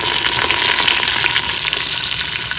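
Green garlic and onions fry in ghee in a pot in a village kitchen, making a loud, continuous sizzle with crackling spatter throughout.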